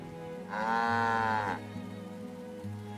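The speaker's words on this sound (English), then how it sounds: "I think I must have clicked on a cow or something." A cow moos in the farming and settlement game Farthest Frontier, one long, loud, drawn-out low call in the middle, with a steady background hum before and after.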